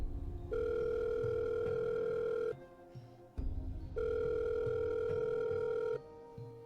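A telephone plays ringback tones while a call is placed, two long steady electronic tones with a silent gap between them, heard close and clear.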